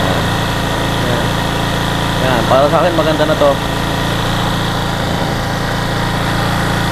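A Suzuki Smash 115 cc motorcycle engine idles steadily with a constant low hum and rattle, while someone speaks briefly over it midway through.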